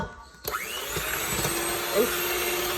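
Electric hand mixer whirring steadily in a bowl of butter cake batter with eggs, a close continuous motor drone after a sharp start, with a faint voice beneath.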